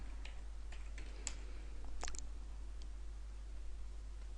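A search word tapped out on a computer keyboard: a handful of light, irregular key clicks, close but faint, over a steady low hum with no one talking.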